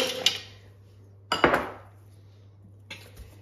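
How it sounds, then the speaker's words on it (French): 200 g of chopped chocolate pieces drop into a mixer bowl in three separate bursts of hard clatter and clinking, each fading quickly into quiet over a low steady hum. No one speaks. "on va mettre ces 200 g de chocolat que j'ai coupé en morceaux"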